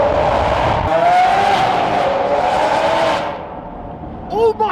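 A Lamborghini Aventador with a new aftermarket exhaust roars loudly up close, a sustained high-pitched engine wail rising then fading after about three seconds, followed by a person speaking excitedly.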